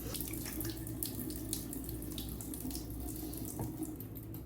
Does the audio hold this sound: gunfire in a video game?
no